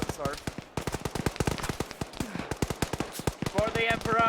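Rifle and machine-gun fire crackles through a video game battle in rapid, dense bursts, with voices talking over the shooting throughout.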